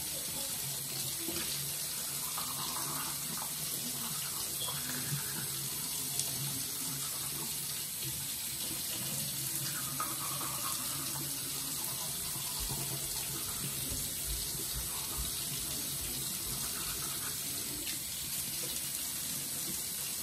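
A bathroom tap runs steadily into a sink, a constant close hiss and splash of water that lasts throughout with no other sounds.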